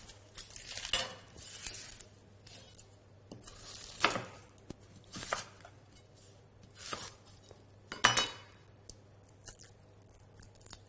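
A knife chops through onion on a cutting board in a series of sharp, irregular cuts spaced a second or two apart, close and clear over a quiet kitchen hum, with no talking.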